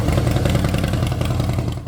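A 2021 Harley-Davidson Street Glide motorcycle idles close by with a deep, loping V-twin rumble and steady mechanical clatter.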